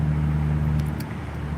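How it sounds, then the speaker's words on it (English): Turbocharged race car with a racing muffler and racing pipes, a steady low, throbbing engine note at idle, close and continuous, with a couple of faint higher clicks midway. "and what you're hearing is the engine."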